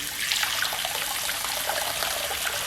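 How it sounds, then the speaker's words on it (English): A soft, gentle stream of tap water pours steadily into a bath to dissolve a heart-shaped coconut milk bath bomb, a continuous close hiss and splash with no talk. "This is a fairly soft and gentle stream here"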